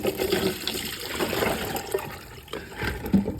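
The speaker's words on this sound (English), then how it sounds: "now we're gonna drain them and get rid of all the water" Water pours and gurgles steadily, a continuous wet rushing with occasional splashes and drips, close by and moderately loud.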